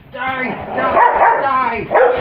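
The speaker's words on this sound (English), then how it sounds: "Dogs got a little rowdy there." Several dogs bark and yip excitedly in a rowdy burst that runs continuously throughout, loud and close, mixed with some vocal commotion over a tense scene.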